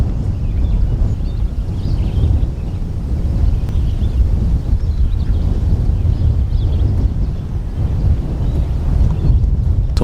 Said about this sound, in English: And it's very breezy up here.